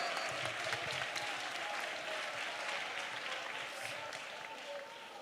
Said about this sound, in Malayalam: സെലിബ്രേറ്റ് ചെയ്ത് കൈയടിച്ച് സ്വതന്ത്രം പറ